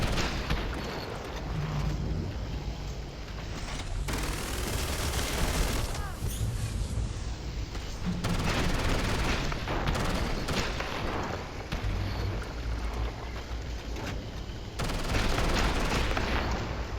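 Sustained gunfire from the sci-fi game Starfield, dense rapid shots rattling continuously with booming impacts, loud and close throughout.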